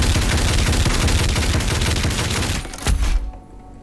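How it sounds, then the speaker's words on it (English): Gatling shotgun in Doom Eternal fires a dense, continuous stream of loud, close blasts for about three seconds, then stops with a sharp final crack and a brief rumbling tail fading to near silence. "The Gatling shotgun."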